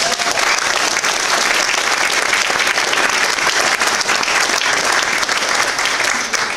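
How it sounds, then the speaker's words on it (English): An audience at a comic convention cosplay competition applauds the judges in loud, dense and continuous clapping that holds steady throughout, with no voice over it. "can I get a round of applause for the judges?"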